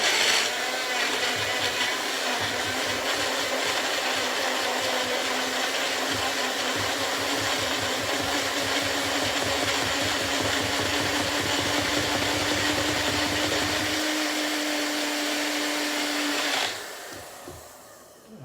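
A kitchen blender purees onions with liquid, running as a loud, continuous whirring motor for most of the stretch, its pitch shifting slightly as the mix smooths out before the motor cuts off and winds down at the end.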